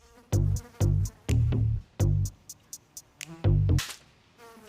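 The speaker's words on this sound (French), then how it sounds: "Cette mouche est chez moi depuis que je suis levée." A housefly buzzes around indoors in a series of loud, close, droning bursts, several long passes broken by short gaps and a few quick flutters.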